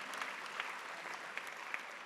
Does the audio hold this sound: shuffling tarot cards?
no